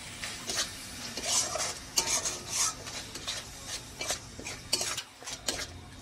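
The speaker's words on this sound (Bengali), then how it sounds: "হালকা অল্প গোলমরিচের গুঁড়া, পরিমাণ মতো নুন দিয়ে এখন একটু ভাজতে হবে।" Boiled eggs seasoned with pepper powder and salt for egg korma are fried and stirred in a pan, with repeated scraping and clinking of a spoon against metal over a light sizzle.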